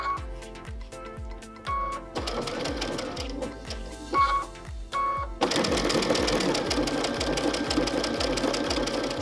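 A domestic sewing machine stitches an applique with variegated thread in quick rhythmic bursts of mechanical clatter, pausing briefly between runs and then settling into a faster continuous whirr, close and loud.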